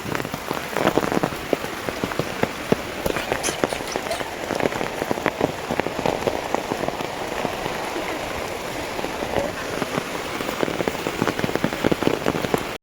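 A downpour drums hard and close on surfaces beside a pond, its thick, even patter holding steady throughout with no talking.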